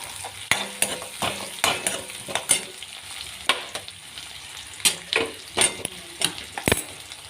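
Spices and chillies for a lentil and spinach curry being tempered in hot oil, with a steady close sizzle and repeated sharp spoon scrapes and clinks against the pan.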